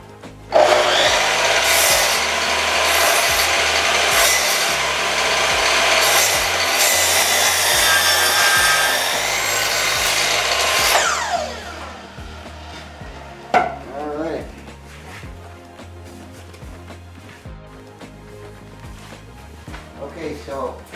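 Spruce wood being sawn by hand for a DIY shelter, loud rhythmic rasping strokes for about ten seconds, then stopping, followed by quieter clunks and handling noises.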